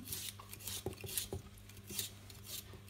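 Asparagus being peeled with a vegetable peeler, giving short scraping strokes at an irregular pace over a steady low kitchen hum, close and fairly quiet, with no talking.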